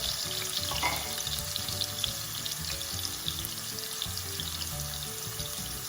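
Something frying in a pan before marinated pork goes in, a dense, constant close sizzle that stays loud and even throughout, no voices.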